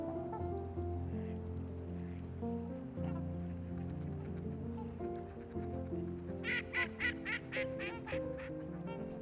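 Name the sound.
mallard duck quacking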